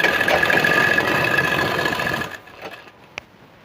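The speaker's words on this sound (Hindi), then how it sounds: "दाहिना वाला पैर सबसे पहले मैं सिलाई करता हूँ" Sewing machine stitching the right leg of a pair of trousers, a steady close mechanical whir running for about two seconds, then slowing and stopping, followed by a few faint clicks.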